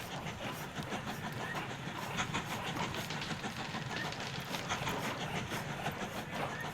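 A train in the Mashinky transport game rolls along rails with a steady clickety-clack and low engine rumble, heard at moderate volume and continuously, with no voices.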